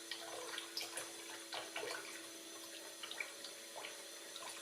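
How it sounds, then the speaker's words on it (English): Running water with faint splashing and bubbling, steady and continuous, as a water pump draws water from a sink, with a low hum underneath and scattered small drips throughout. "The pump has been activated. It is re-injecting water into the container."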